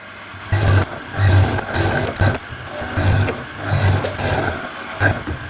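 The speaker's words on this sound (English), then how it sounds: "Do the through tenons first at full depth on the depth stop." Chain morticer cutting through tenons in a gunstock door stile, heard as repeated loud grinding, rasping bursts with short pauses between passes, close up.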